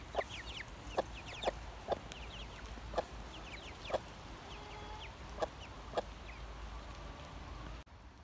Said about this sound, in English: Chickens always look such a mess when they're wet.